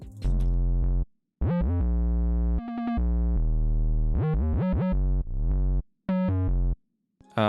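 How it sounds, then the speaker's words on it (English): Deep gliding 808 bass notes slide and stutter in a rhythmic pattern, loud and dominant, with brief silent breaks between phrases. "I did actually switch up the 808, so it sounds like this."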